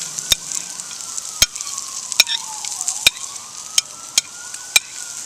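Chopped garlic and onions sizzle steadily in a hot pan, a bright continuous hiss broken by sharp, evenly spaced clinks of a utensil stirring them, close and moderately loud.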